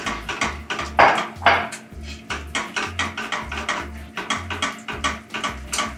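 Milk being stirred into a roux in a pan, a whisk or spoon scraping and clinking against the metal in a steady, repeated rhythm, close and fairly loud with no talking.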